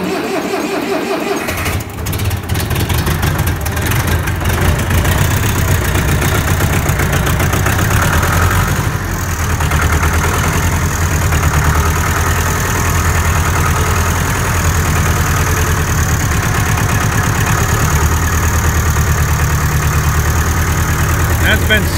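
An old Case IH diesel engine that has been sitting a while cranks briefly and catches, then settles into a loud, steady idle with a rough, uneven beat suggesting a miss, close up.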